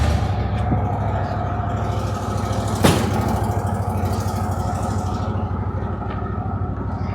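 A Can-Am Commander UTV engine idles steadily nearby, a constant low drone with a brief sharp knock partway through and no talking.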